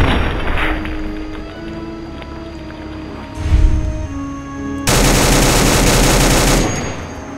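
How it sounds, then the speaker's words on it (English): Automatic rifle fire in the video game Fallout 4, loud rapid bursts with a sustained stretch of continuous firing in the second half, mixed with other game noise and no talk. "Running up on a cyborg with an automatic rifle?"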